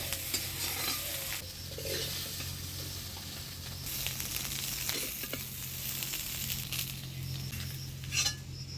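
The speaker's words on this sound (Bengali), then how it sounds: "এদিকে সয়াবিনটাও ভাজা হয়ে গেছে" Soybean chunks frying and being stirred in a pan, with steady sizzling under repeated scraping strokes and occasional metallic clinks, close and continuous throughout.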